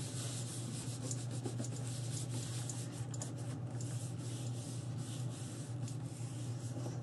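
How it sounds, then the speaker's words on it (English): Paper being burnished by hand along its edge while making a dog house box and mini album, a steady close dry rubbing that runs continuously without pause, with no talking. "Burnish it with your hand"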